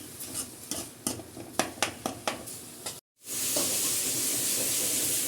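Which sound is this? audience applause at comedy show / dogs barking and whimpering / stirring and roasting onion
stirring and roasting onion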